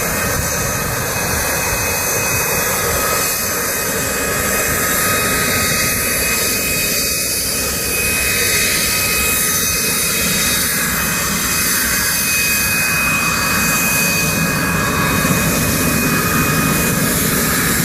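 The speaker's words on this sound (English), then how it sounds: "let's get our Hornets, Super Hornets, in the air." A loud, steady roar of F/A-18 Super Hornet jet engines at an airshow, with a high whine running through it, sustained and close, no voices.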